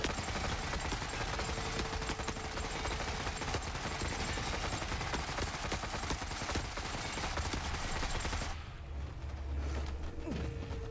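Rapid automatic gunfire and mechanical clatter from the video game The Forever Winter, a dense continuous barrage of shots at moderate volume that abruptly thins near the end.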